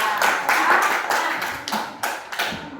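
A school class claps hands in a classroom, an uneven burst of sharp claps that swells and then thins into a few scattered final claps over several seconds.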